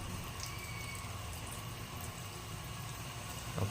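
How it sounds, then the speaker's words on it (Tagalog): Milkfish (bangus) pieces sizzle in hot cooking oil, a steady, even crackle and hiss that runs throughout with no talking and a slight swell at the very end. "Dito ay ilalagay na nga pala ni Arnie ang mga bangus isa-isa sa mainit na mantika."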